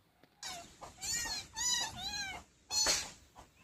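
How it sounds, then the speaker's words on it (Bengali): Small house kittens meowing nearby in a run of four or five loud, high, drawn-out cries with short gaps between them. "আর এগুলো হচ্ছে আমাদের বাড়ির ছোটো ছোটো বিড়ালের বাচ্চা। তো এগুলিকে আমাকে দেখে এগুলি খুব চিলাচিলি করছিল"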